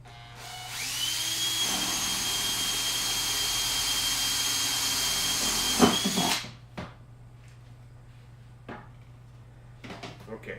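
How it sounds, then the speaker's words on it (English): A power drill bores a 3/4 inch hole in a tube for a classroom aquaponics setup, its steady high whine running about five seconds before winding down, followed by faint clunks and handling noises. "And I'm just going to drill this right next to the previous hole I drilled."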